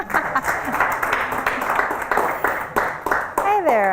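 Audience applauding a guest speaker at an evening missions training class, moderate clapping mixed with voices and mic handling, ending in a whistly feedback squeal.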